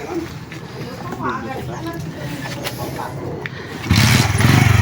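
A motorcycle engine idles and then revs up louder near the end, close by, with people talking over it at a fishing spot.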